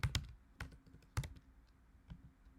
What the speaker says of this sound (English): And I will type query like this here.